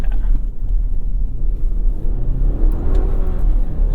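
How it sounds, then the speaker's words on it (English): A 2023 GMC Canyon pickup in two-wheel drive on broken rock with all-terrain tires gives a steady low engine rumble with wind buffeting, then a rising engine tone late on as it accelerates and the turbo builds boost. "You do hear that turbo lag when you get on it. It does take a little second to downshift and build up boost and take off."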